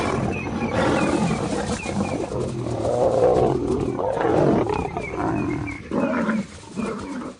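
Lions roar during an attack on the African savanna, near a giraffe carcass, with white lionesses facing an attacking male; loud, continuous, close roaring and snarling rises and falls over several seconds, no talking.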